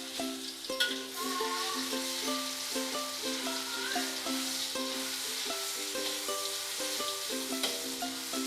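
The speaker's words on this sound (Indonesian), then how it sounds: "karena minyaknya sudah panas, jadi sekarang kita masukkan bumbu bawang putihnya" Garlic sizzles steadily in hot oil in a pan while cooking an asparagus soup, a continuous close crackle with occasional stirring, set under soft background music.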